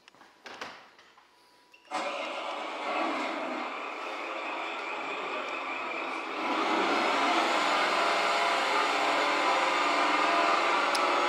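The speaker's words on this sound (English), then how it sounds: "Sounds like he's got a hole in his exhaust system." A radio-controlled car engine with a leaking, very loud exhaust starts and then revs, its buzzing roar holding steady before rising louder and harsher. The sound is close and unaccompanied.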